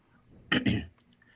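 A single short, rough cough-like burst, close and fairly quiet, with a hint of throat clearing, then quiet.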